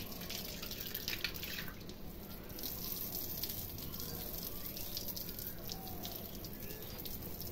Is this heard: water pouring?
yes